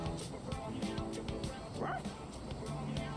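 Koromaru, the dog in the Persona 3 Reload video game, gives several short yips and barks in an uneven run over soft game music, with a voice speaking briefly among the barks.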